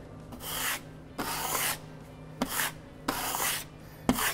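Concrete-look product is rubbed onto a wooden table top in five rasping strokes, each a scratchy swipe lasting under a second with short pauses between, close and clear with no talk.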